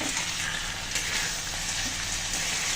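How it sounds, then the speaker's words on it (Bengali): Eel fish and potato curry with spices, a Bengali bhuna, fries in a pan with a steady, dense sizzle that carries on without a break from start to finish, close up, with no talking. "আমি সুন্দর করে কষিয়ে নিলাম মশলার সাথে মাছ তরকারি"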